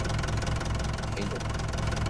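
Tractor engine idling in Farming Simulator 22, a steady loud mid-pitched diesel rumble with a regular knocking pulse, close and continuous.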